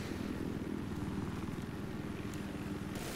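Little Bird helicopter in Battlefield 4 flying, a steady close rotor chop and engine drone that holds constant throughout without a break.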